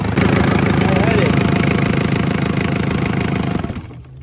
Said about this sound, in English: So yeah, that's the new engine.